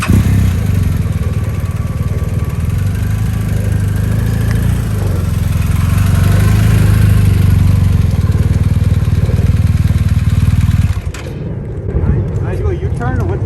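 A motorcycle engine runs steadily, a loud close rumbling idle with a slight rise midway, then drops lower near the end while a person talks over it.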